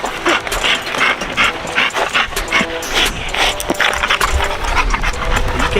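Working dogs pant hard and rhythmically during spring pole training, rapid close breathing with occasional whimpers and mechanical creaks, loud and continuous with no speech.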